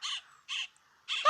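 Baby birds call loudly in three harsh, raspy bursts separated by short pauses, the last one rising into a sharper squawk, close and alone.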